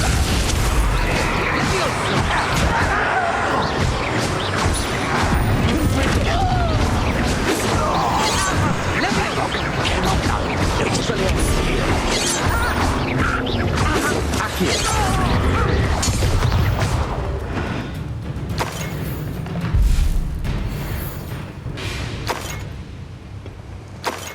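Spell combat in Hogwarts Legacy on the Nintendo Switch brings a loud, constant barrage of magical blasts, crashes and impacts that thins out near the end. Character voices are mixed in with the battle.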